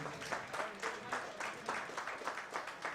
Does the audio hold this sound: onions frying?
no